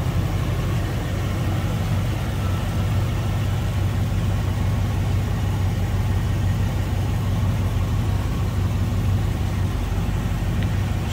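A 1969 Buick Skylark Custom convertible with a 350 V8, automatic transmission and HEI ignition idles smoothly, its steady low rumble running loud and unbroken with no talking.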